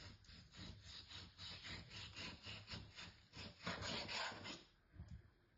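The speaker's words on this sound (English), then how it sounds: "And we're just going to slice it." A knife slices through fatty pork for Thai BBQ moo ping in a quiet, rhythmic series of close rasping strokes, each short cut repeating evenly.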